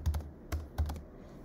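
A few quick keystrokes on a computer keyboard, three soft clustered taps spaced out and close up in a quiet room.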